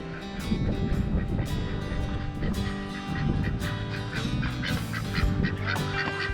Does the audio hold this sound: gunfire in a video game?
no